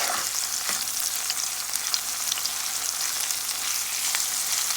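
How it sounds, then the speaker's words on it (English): Onion, garlic, pepper and green onion fry for karela in a pan, giving a loud, even, dense sizzle that holds steady throughout with faint crackles and no speech. "Onion is frying up."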